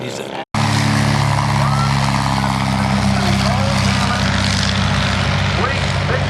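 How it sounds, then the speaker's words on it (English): A 50% scale Newport 28 model airplane drones loudly with a constant propeller engine roar after a brief silent gap at the start, with an announcer talking over it. "That's a big airplane, that Newport 28."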